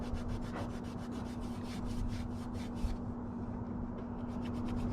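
A Scotch-Brite pad scrubs a part from a stock two-barrel carburetor being swapped for a four-barrel Edelbrock, giving steady, close rubbing strokes in a quick even rhythm that pause briefly, then resume, with no talking.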